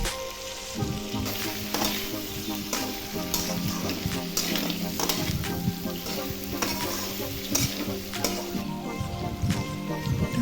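Pork frying in a pan with very little oil, turmeric and salt, a continuous close sizzle and crackle broken by repeated stirring scrapes of a spoon against the pan.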